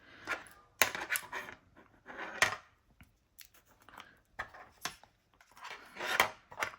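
A lid pressed onto a small ink container gives a few sharp, close plastic clicks and taps, with soft handling rustles between them in a quiet room.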